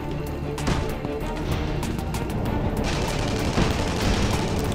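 Gunfire in the online shooter Tribes Ascend, with repeated sharp shots and bursts spread through a steady, loud game mix; no talk is heard.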